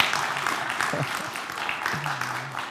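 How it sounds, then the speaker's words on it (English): A studio audience claps for a junior quiz bowl team after a match win, giving a moderate, even patter of applause with a short voice-like murmur partway through. "we do have an audience here waiting for them to clap for you"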